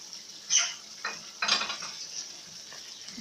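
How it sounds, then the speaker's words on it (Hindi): Ground coriander and cumin are tipped into a sizzling masala in a karahi for shahi chicken, giving a few soft hissing bursts and stirring scrapes at moderate, close range with no voices. "अब हम इसमें साबुत धनिया और ज़ीरा जो हमने पीस के रखा था ये डाल देंगे।"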